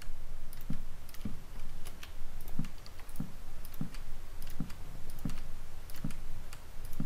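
Steady computer keyboard and mouse clicking during a Minecraft session, a run of quick light taps with sharper clicks about every half second, close and fairly quiet over a constant background hiss.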